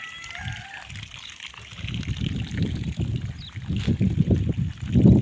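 Water gushes and splashes in a steady, rushing flow, swelling louder toward the end, with a faint whistle early on.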